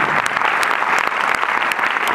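Steady audience applause for producer Hugo Sélignac at a film screening discussion, a dense, even wash of clapping throughout.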